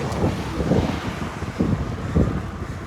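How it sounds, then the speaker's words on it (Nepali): Steady cold wind by a river buffets the microphone with low rumbling gusts that swell and fade, loud and close throughout, with no voices. "नदीको चिसो हावा"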